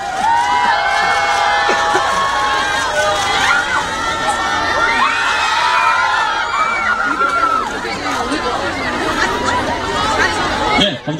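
A large crowd of fans at a TV drama awards red carpet cheers and screams loudly and continuously as an actor arrives, with high-pitched shrieks and excited chatter filling the scene throughout.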